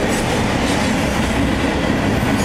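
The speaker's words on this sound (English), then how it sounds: "This is the Herzog Stone train." An empty Herzog stone ballast train rolls past on its way back from the Sarnia tunnel, making a loud, steady rail rumble with a continuous clickety-clack of wheels throughout.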